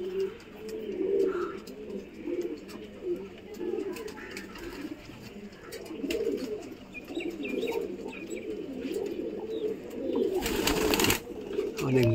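Pigeons cooing nearby in a soft, repeated rolling rhythm, with young pigeons among the flock, plus faint chirps and a brief burst of noise near the end.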